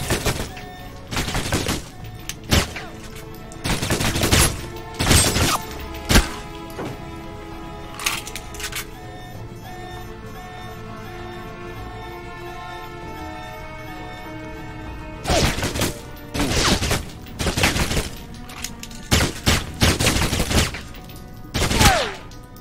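Bursts of gunfire from the video game Alpha Protocol come in sharp, loud volleys and rapid strings of shots, separated by a quieter stretch of background music in the middle.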